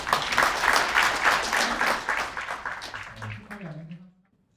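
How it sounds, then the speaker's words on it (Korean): An audience at an award ceremony during an alumni general meeting of a medical school claps steadily, fairly quiet and distant, then thins out and fades to near silence near the end. "다시 한번 뜨거운 박수 부탁드리겠습니다"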